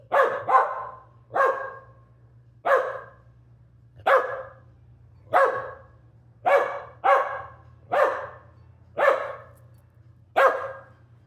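A dog barks repeatedly at a steady pace, about a dozen sharp, loud barks close by, with a low steady hum underneath.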